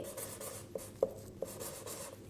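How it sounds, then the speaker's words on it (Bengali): Chalk or marker strokes on a classroom board during an English lesson, soft scratchy writing with three sharper taps, fairly close and alone without talk. "ফার্স্টে আমরা কি লিখব, শামিম।"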